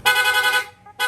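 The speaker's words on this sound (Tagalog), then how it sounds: "Rapid horn." A Piaa dual horn on a Yamaha Sniper 155 motorcycle sounds in rapid-horn mode: a loud, close, sustained blare that drops briefly, then starts again.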